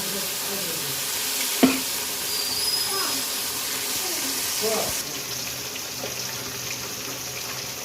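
Fish sizzles in hot oil in a pan, a steady bright hiss with occasional louder crackles and spits, close and continuous, with someone speaking briefly alongside.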